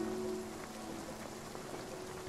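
Steady rain in the video game Spiritfarer, a continuous even hiss of falling drops with faint scattered taps and a low tonal hum underneath, no talking.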